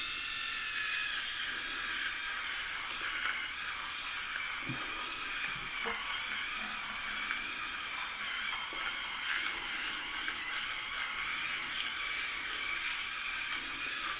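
A seven-blade electric head shaver runs continuously as it moves over a scalp, a steady high buzzing hum with small scratchy variations at moderate level and no talking.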